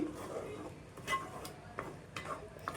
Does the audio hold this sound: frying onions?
yes